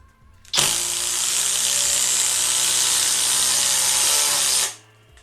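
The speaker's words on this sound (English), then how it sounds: "let's go ahead and run a couple of screws" A Flex impact driver drives screws in one continuous loud burst of hammering whir that starts abruptly, runs steadily for about four seconds, then cuts off and winds down.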